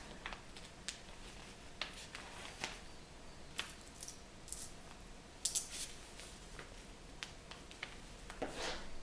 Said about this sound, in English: So you cut it out nicely with your pair of scissors, just like that.